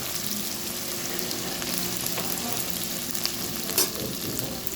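Onions and green chillies sauté in hot oil with fennel, cardamom and star anise, a steady close sizzle with light stirring scrapes and one brief clatter.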